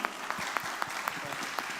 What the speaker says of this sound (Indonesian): tepuk tangan bareng-bareng buat kalian di sini